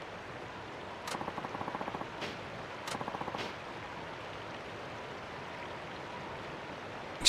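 Gunfire while hunting deer in the video game Yakuza 5: a few short bursts of rapid shots, brief and moderately loud, over a steady rushing background like running water.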